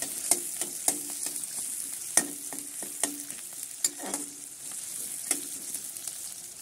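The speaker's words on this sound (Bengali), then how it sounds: "তো দেখো পেঁয়াজটা তেলে দিয়ে দিয়েছি।" Onion fries in hot oil, a continuous close sizzle punctuated by irregular sharp clacks and scrapes of a spatula against the pan, moderately quiet with no one speaking.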